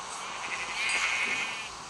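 A single Minecraft sheep bleat sounds out over a low background hiss, short and moderately loud.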